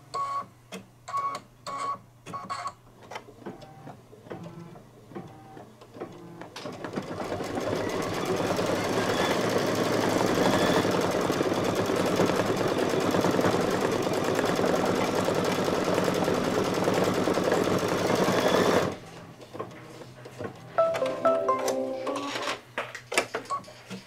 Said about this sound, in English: For the 10 minutes it's going to take to stitch all of Santa's satin stitching